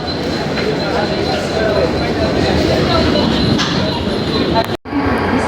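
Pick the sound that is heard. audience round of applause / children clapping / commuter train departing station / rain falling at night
commuter train departing station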